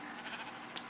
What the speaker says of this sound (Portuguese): tem mais ovelha pra cá